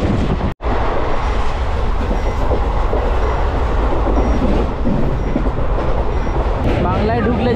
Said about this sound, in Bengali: সকাল 9টা 23-এ আমাদের ট্রেন কিন্তু অযোধ্যা ধাম জংশন স্টেশন থেকে ছেড়ে যাচ্ছে বারাণসীর উদ্দেশ্যে